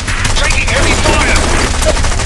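Heavy, dense gunfire in the aerial combat game War Wings rattles continuously and loudly, with overlapping rapid bursts and no pauses throughout.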